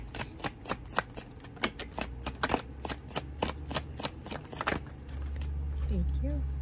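Rapid riffling and slapping of tarot cards being shuffled, a quick series of crisp flicks up close, ending with a low hum and a soft voice.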